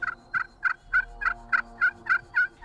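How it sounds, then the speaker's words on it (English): A wild turkey gobbles in about ten quick, evenly spaced bursts from a hunting blind, each call sharp and clear against a quiet outdoor background. "we're already hearing some gobbles off in the distance"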